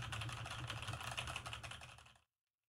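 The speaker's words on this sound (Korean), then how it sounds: "지금 키보드를 굉장히 강하게 누르고 있습니다" Rapid, forceful keyboard typing picked up by an EPOS B20 microphone, close and continuous, the keystrokes clattering for about two seconds before stopping abruptly into silence.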